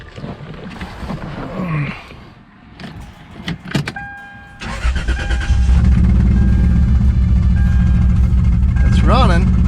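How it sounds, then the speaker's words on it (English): A used car with a rotten frame is started with its key; after a stretch of talking and rustling the engine cranks, catches and settles into a loud, steady, slightly rough idle close by. "It's running."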